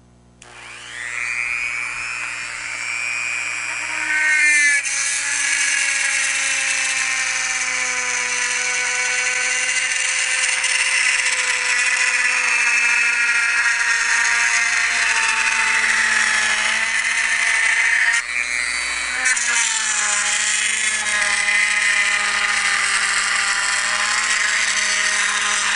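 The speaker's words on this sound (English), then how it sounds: "I'm using a drill bit just to cut everything out." Rotary tool fitted with a drill bit cutting holes in a PC panel for a rocker switch and DC outlet, a steady high-pitched whine that holds loud and continuous throughout, with brief pitch dips as the bit bites into the material.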